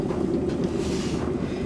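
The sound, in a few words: water boiling and bubbling in a pot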